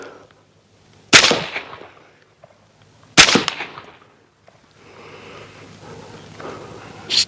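Two sharp, loud suppressed shots from a CZ Bren 2 rifle aimed at steel targets, about two seconds apart, each with a short decaying tail, followed by a low steady outdoor rumble.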